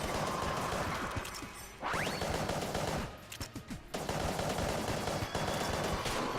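Dense, rapid gunfire from the video game Enter the Gungeon rattles almost continuously, broken by a brief lull and scattered crashes, fairly faint overall.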